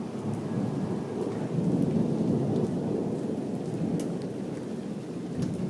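A hailstorm during a thunderstorm under a tornado warning, heard as a steady, dense roar of hail and rain with low rumbling thunder throughout.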